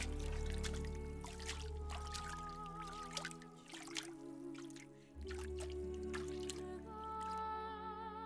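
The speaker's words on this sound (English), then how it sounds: "Pilate declared Jesus innocent and washed his hands in the water" Cartoon-style water effects of hands being washed, with soft drips and trickles heard beneath a steady musical backing.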